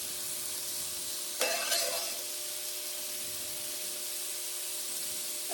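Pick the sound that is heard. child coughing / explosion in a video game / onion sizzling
onion sizzling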